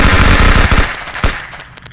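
Rapid, loud automatic gunfire from the VR physics game Project Third Eye hammers for about a second, then tapers into a few scattered shots and impact clatter.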